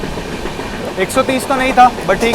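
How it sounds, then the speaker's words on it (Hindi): Goa Sampark Kranti Express running through Faridabad railway station without stopping, with rolling wheel noise and clatter under someone talking and faint rising whistle tones. "अपनी गोवा संपर्क क्रांति ने स्किप कर दिया फरीदाबाद रेलवे स्टेशन को"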